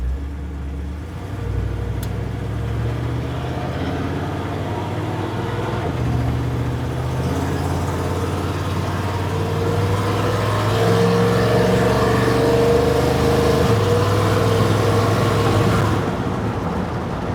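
A truck engine drones loud and close under rolling throttle, its pitch rising gradually as revs climb through a sustained pull, then easing back near the end, with no talking over it.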